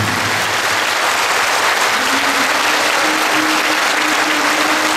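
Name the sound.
audience applause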